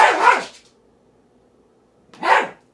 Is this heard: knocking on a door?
no